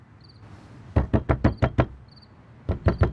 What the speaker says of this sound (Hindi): डिजू दरवाजा खोल दे यार